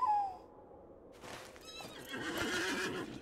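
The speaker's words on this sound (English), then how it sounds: "A horse." A horse in the online game LOTRO gives a clear whinny, a short high neigh at the start, followed after a pause by a longer, louder neighing snort and hooves clopping, with no talk.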